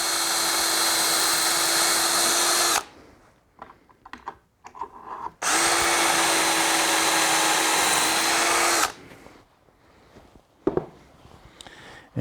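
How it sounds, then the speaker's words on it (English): A power drill whines loudly as it bores through wood, centered through a cabinet part into a plywood backer, in two long, steady bursts, separated by quiet moments with light handling noises. "Line up the center part and then go ahead and drill that out."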